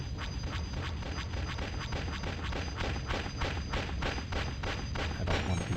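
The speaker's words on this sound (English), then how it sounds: "I can go ahead and start shooting at some stuff." Ship weapons firing in the X-Wing space combat game, a rapid steady series of repeated blasts over a constant engine hum, loud and close, with no talk.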